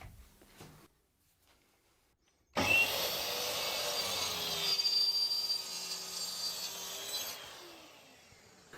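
Track saw cutting bevels in wood: after a quiet pause, a loud close whining motor and blade cut starts abruptly and runs steadily for about six seconds, then winds down.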